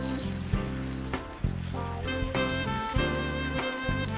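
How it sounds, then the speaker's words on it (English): Steady loud sizzling and crackling of lamb searing in a hot pan, with sharp pops breaking through the continuous hiss every second or so. "If you don't hear it sizzling and popping, you need a little more time on it."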